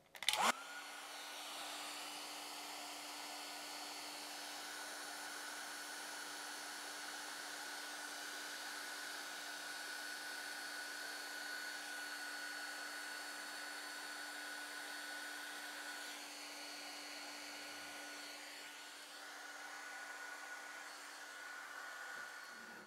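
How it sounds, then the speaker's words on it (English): A hairdryer runs steadily and alone at close range, warming tape adhesive on watercolour paper, with a sharp click as it switches on and a constant whirring hum for the whole stretch. "you might need to use the hairdryer to heat up the adhesive so it doesn't tear the paper"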